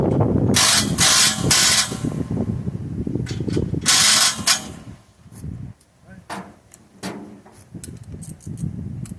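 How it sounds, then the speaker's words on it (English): A hand wrench works on the belt drive of a diesel R Washer pressure washer, making close ratcheting clicks and metallic clatter in two loud bursts, then scattered sharp ticks and clanks. "going to have to assist it with hand wrench"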